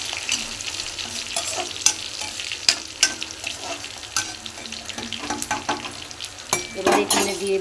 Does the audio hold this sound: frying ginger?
yes